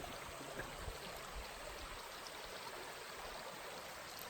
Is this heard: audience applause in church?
no